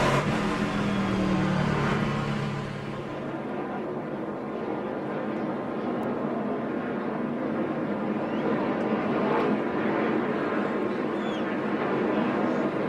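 NASCAR Nationwide race cars idle along in a pack behind the pace car under caution at Charlotte, a continuous low engine drone with a brief louder rev near the start, steady and moderately distant, no voices.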